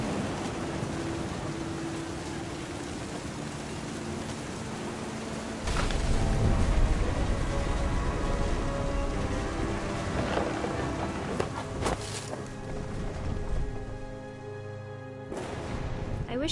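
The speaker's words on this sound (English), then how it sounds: "Thunder sounded much too close and full of angry power." Steady hiss of rain in a thunderstorm in the video game What Remains of Edith Finch, with a louder rumbling swell midway and a few sharp cracks near the end.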